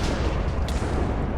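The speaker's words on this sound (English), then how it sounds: "Oh my, massive explosions, man." Massive explosions from an exploding laser gun in a modded Minecraft game, a dense, continuous roar of rumbling blasts filling the whole moment at steady loudness, with no talk over it.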